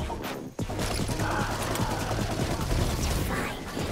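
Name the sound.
gunshots from the video game Redfall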